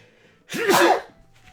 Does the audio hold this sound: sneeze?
yes